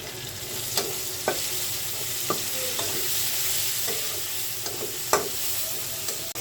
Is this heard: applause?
no